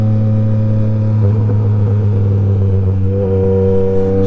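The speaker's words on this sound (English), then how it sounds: "This is a naked bike, but it is still a street bike." Naked street motorcycle engine running close by, a loud, steady low-pitched burble whose pitch lifts slightly in a couple of light revs, with no talk.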